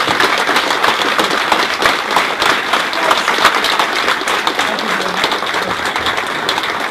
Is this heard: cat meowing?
no